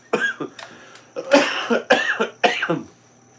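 A person coughs repeatedly in a close, loud series of harsh bursts with short gaps, some with a throat-clearing edge, no other sound around them.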